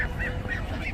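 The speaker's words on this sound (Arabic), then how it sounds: "البطه المسكوف الاصلي، يعني مش مخلط" A Muscovy duck at a bird market gives a rapid run of four short, nasal honking calls, close and fairly loud over a low market hubbub.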